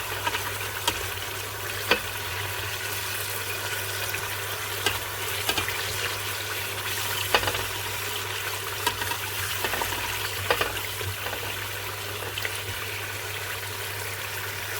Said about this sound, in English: So I will fry it for like 3 minutes before I will start to add my vegetable and every other ingredient.